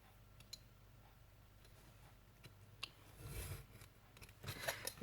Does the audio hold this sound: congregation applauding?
no